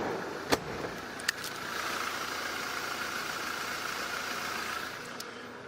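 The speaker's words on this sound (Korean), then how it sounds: "엔진 소음 먼저 들려드리면은 뭐 지금 들어도 굉장히 정숙한 엔진 소음 만나볼 수가 있는 차량이고요" A fifth-generation BMW 520i petrol engine idles quietly and smoothly with a steady, low hum, broken by a couple of sharp clicks near the start.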